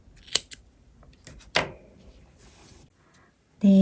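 Scissors snip through crochet yarn on a cotton-candy crochet bag in a couple of sharp, close cuts, followed by quieter handling rustle and another loud burst at the end; no one speaks.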